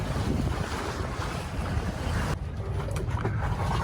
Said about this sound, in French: t'aimes-tu ça, la voile, Sylvie?